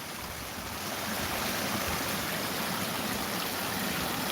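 Water running steadily over rocks in a small outdoor stream, a continuous broadband rush that stays even and close throughout with no voices.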